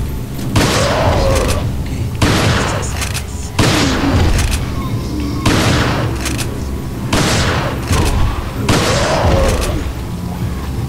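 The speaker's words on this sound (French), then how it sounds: "Il faut les tuer au fusil, à pompe." Shotgun blasts in the video game Resident Evil 4, about six loud, booming shots spaced roughly every one and a half to two seconds, each with a sharp attack and a ringing decay.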